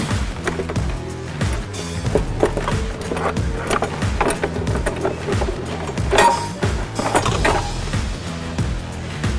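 An S&B plastic side cover for a Polaris RZR Pro XP being lifted and slid into place, with a run of hollow knocks, scrapes and clunks of panel against the vehicle body, close and fairly loud.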